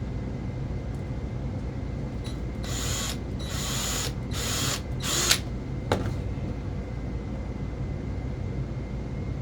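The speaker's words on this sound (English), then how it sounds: "I'm going to go ahead and drill that one." A power drill bores a hole in a modified Black and Decker tool, several short whirring bursts in a row over a steady background hum, followed by a couple of faint clicks.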